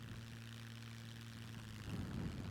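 A propeller airplane flies low and slow in the survival game SCUM, a faint steady engine drone with a rougher, louder burst near the end.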